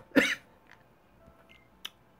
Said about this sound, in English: I'm gonna be coughing periodically throughout the thing